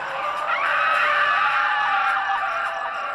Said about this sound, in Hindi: तभी काली पहाड़ी पर चीखने चिल्लाने की आवाजें आने लगी।